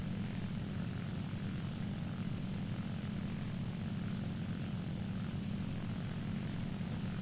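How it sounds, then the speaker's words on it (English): Propeller aircraft engine droning steadily in the War Thunder combat flight game, a loud continuous low hum that holds without a break and with no talk over it. "So I put the aircraft in a climb, loop over around, and try and re-engage him."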